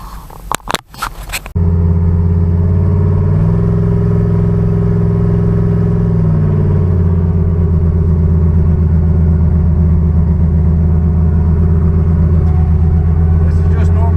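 Turbocharged Chevrolet Nova engine fires up after a brief starter crank, then settles into a loud, steady, throaty idle with a deep rumble that shifts slightly in pitch partway through.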